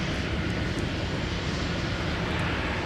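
A Boeing 717 airliner rolls for takeoff on runway 17 at MSP airport in winter, its engines giving a steady, broad roar that holds at an even level throughout with no voices.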